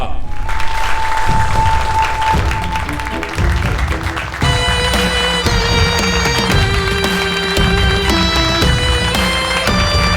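An audience breaks into loud, close applause to welcome a young poet from Lucknow onto the stage. The clapping fills the first few seconds before music takes over.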